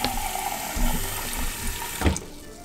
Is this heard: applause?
no